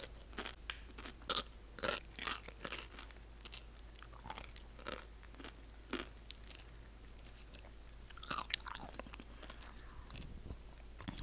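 Close, quiet bites and crunchy chewing of snack food for ASMR, a steady run of crisp crunches with soft squishy mouth sounds in between and no talking.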